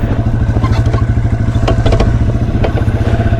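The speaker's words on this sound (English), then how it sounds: "Trying to take this little TW200 places that most of them probably don't end up going." A Yamaha TW200 motorcycle rides off-road with a close, rapid, thumping single-cylinder engine beat. Clattering and scraping from the rough ground are mixed in, and there is no talk.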